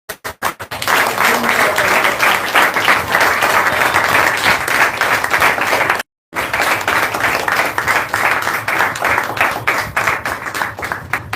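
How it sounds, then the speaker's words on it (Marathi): An audience claps loudly and steadily at a spiritual talk, a dense wash of hands that stops for a moment and then resumes just as strongly. "टाळ्या झाल्या पाहिजे."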